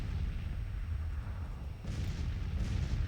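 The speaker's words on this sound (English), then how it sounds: "I could probably just sit here and let the artillery do the job." Artillery fire rumbles in the Civil War strategy game Grand Tactician, a continuous low, distant roar of cannon with a heavier boom rolling in toward the end.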